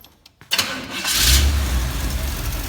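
An old 1986 GMC pickup truck engine cranks briefly, catches, and roars to life, then settles into a loud, rough idle nearby.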